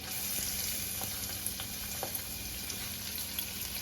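Chopped onion frying in hot oil in a kadhai with chilli, garlic and ginger over a high flame, giving a steady broadband sizzle throughout with a few soft clinks of stirring.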